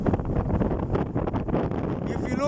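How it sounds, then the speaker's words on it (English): Strong desert wind in the UAE buffets the microphone in a loud, continuous rush with gusty rustling of trees, and a voice is heard under it. "A lot of wind. The desert is on the move."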